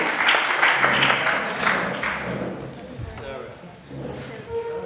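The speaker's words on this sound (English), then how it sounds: "So give yourself a round of applause too." A conference audience at an evolutionary health meeting in London applauds itself, with loud clapping that gradually thins and gives way to talk.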